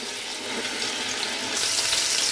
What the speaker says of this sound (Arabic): غادي نخلي الدجاج يتقلى شويه في الزبده والزيت